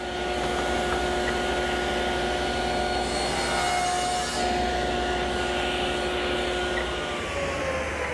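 Table saw running continuously while making shoulder cuts on the ends of wooden rails, a loud steady motor whine with blade drone throughout and a slight dip in the middle.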